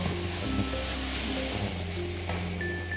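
Food sizzles gently in a pan over very low heat, a steady soft crackle throughout with low background hum and a faint clink partway through.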